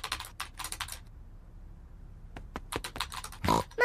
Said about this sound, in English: Peppa and George love to watch Mummy work on the computer.